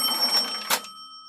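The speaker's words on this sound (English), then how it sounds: "we need the cash register sound" A cash register sound effect gives a quick bright ring with jingling and a sharp clunk, then fades into a thin ringing tone.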